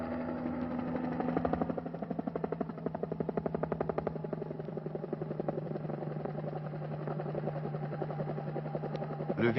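A helicopter flies over the Bizerte airfield, its rotor beating in a steady, rapid thump with an engine drone underneath. The sound holds close and even throughout, with no voices.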